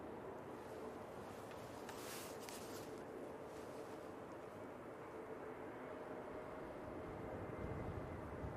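Airliner coming in to land at Manchester Airport, a steady broad jet roar held at even strength throughout and swelling slightly toward the end, heard alone without talk.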